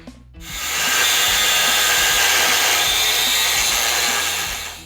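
A zip-cut disc bites into welded rectangular steel tube, a loud, steady high-pitched grinding whine that starts abruptly and holds for several seconds before easing off, with no talking.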